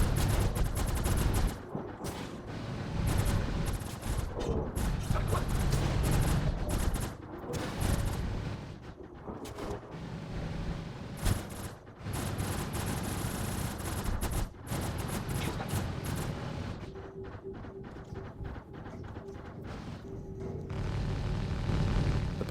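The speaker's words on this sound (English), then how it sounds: "When you're in combat on the Polaris, you can just hear all the guns raging" Ship guns roar in continuous, dense bursts of gunfire during combat aboard the Polaris in a video game, loud and sustained with brief lulls, with no voices.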